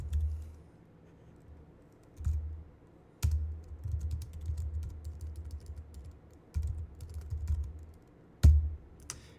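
Someone types code on a computer keyboard in irregular bursts of soft key clicks with a few louder, sharper strikes. The typing sounds close, with quiet pauses between bursts.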